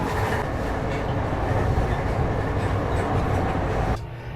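Steady rumble of a train riding along the rails, a dense continuous rolling noise heard from inside a carriage, loud and unbroken until it drops off abruptly near the end.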